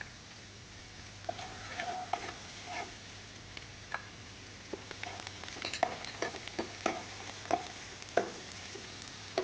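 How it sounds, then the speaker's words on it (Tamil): Onions, tomatoes and green chillies sauté in oil for capsicum biryani, with a soft, steady sizzle broken by sharp clicks and scrapes of stirring, close up and fairly quiet, with no voices. "ஆனியன், தக்காளி, பச்சை மிளகாய் எல்லாம் இந்த ஆயில் நல்லா வதங்கிடுச்சு."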